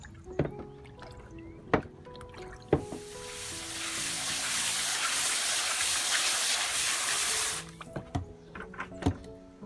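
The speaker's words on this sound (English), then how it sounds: "And washing them off with water." Water rushes and splashes steadily for several seconds, rinsing a paper print, bracketed by sharp knocks and clinks before and after.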